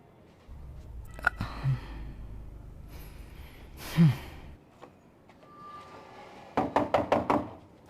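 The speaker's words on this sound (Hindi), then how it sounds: "मैं कब से दरवाजा खटखटा रहा था," Knuckles rap on a door in a quick burst of about five sharp knocks near the end, after breathy sighs and a few isolated thuds earlier.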